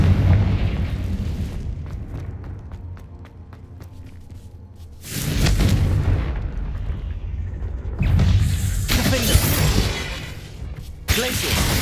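Confringo fire-blast spell explosions in the video game Hogwarts Legacy, a series of heavy booming blasts with crackling, shattering debris, a rumbling lull, then more loud bursts near the end.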